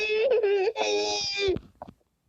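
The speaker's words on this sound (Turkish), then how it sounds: "Şarkıdan ağlıyorum arkadaşlar." A person wailing and moaning loudly in a sung, tearful way, as if crying along to a song, in one long drawn-out cry that breaks off into short sobs at the end.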